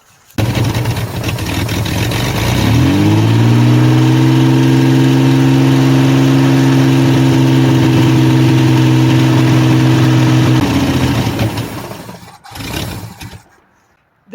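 A Ford Bronco II engine starts and runs steadily, a loud sustained idle on a cold engine that needs choke adjustment, holding for several seconds before cutting off, with a brief mechanical noise afterward.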